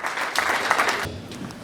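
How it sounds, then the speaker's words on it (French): Audience applause at a 60th birthday party in Montreal, a short burst of dense clapping from a crowd that fades away after about a second. "Je voudrais qu'on applaudisse encore, s'il vous plaît, pour les parents"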